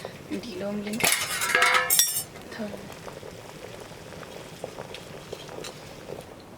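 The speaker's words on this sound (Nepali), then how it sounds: "अलिक ढिलो उम्लिन्छ" Local chicken curry boils in a pot during village cooking, a steady bubbling hiss broken early on by a few clinks of utensils against the pot, with a voice speaking briefly.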